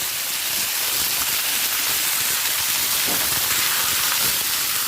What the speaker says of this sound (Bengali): এরপর দিয়ে দেব ছোট ছোট টুকরো করে নেওয়া ফুলকপি